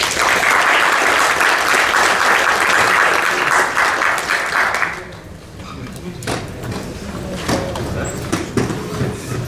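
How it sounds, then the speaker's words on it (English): Loud, dense audience applause at a tech conference session fills the first half, then fades to scattered claps, shuffling and a few voices as people move to the break. "Hands of applause, please, again."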